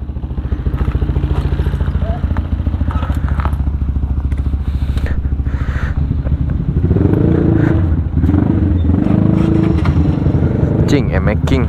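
Yamaha MX King 175cc motorcycle with an HTS-spec engine idling and revving close up, a loud rapid throbbing exhaust pulse that swells midway, with people talking over it.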